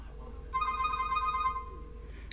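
A phone rings from an incoming call, one electronic ringtone burst of about a second with a bright stacked tone over a low steady hum, close and clear, with no talk.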